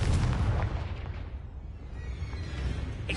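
A Confringo blasting spell explodes in Hogwarts Legacy on PS5, a loud, rumbling burst that fills the low end, then fades into a lingering roar with a faint crackle near the end.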